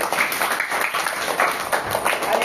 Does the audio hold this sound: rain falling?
no